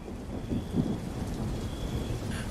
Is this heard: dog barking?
no